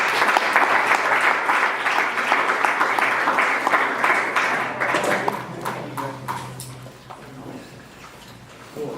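A community speaker-series audience claps loudly and steadily to welcome a speaker, then the applause thins out and fades toward the end, with a few scattered claps and a faint tonal ring.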